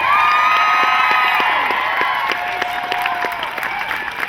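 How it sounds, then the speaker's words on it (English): A crowd at a rally on the Capitol steps in Sacramento cheers and applauds loudly, with whoops and high shouts over dense clapping, steady at first and then slowly thinning. "and for that, we applaud him."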